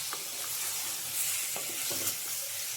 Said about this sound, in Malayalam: ചിക്കൻ ഇട്ടതിന് ശേഷം നന്നായി ഇളക്കുക.